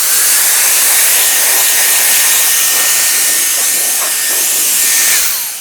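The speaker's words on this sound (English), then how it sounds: "I become this power blower that literally will blow away all the dust, all the debris, everything around it" A powerful electric air duster blows a steady, loud rush of air, a continuous hissing roar that holds nearly constant for several seconds before tapering at the end.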